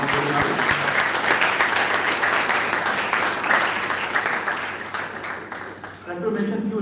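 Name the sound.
audience applause for the conference volunteers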